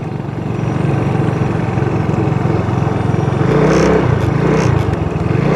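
A motorbike engine runs steadily at close range, then gets louder and rougher as it pulls away and rides off, with a constant hum and brief higher-pitched surges.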